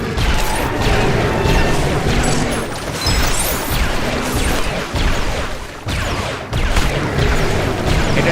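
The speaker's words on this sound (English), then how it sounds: "Look out, the walls are moving in again." Walls closing in during LEGO Star Wars: The Skywalker Saga: a loud, dense grinding and mechanical rumble with clattering crashes, continuous throughout with a few brief dips.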